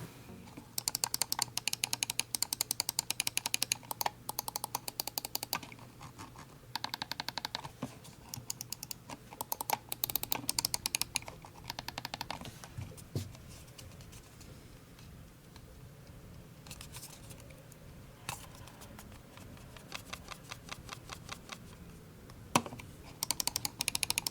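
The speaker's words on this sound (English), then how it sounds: "Mouse 1 and 2 clicks feel light, snappy, and very satisfying." Rapid, crisp clicking of a mouse button, repeated in quick bursts with short pauses between, close and fairly quiet.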